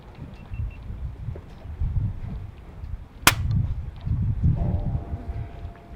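An air gun fires a single sharp crack at a pigeon perched on a gate outdoors, one distinct shot standing out over steady wind noise and faint rustling.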